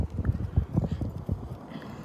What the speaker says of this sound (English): He's a super nice horse.